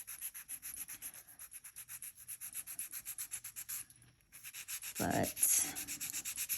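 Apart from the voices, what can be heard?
nail file filing nails coated with peel-off base coat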